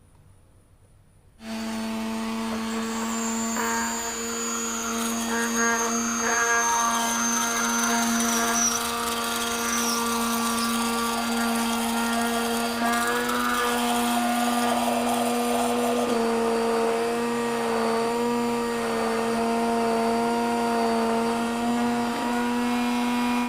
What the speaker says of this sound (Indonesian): Lalu adonan mulai di mixer selama 10 menit.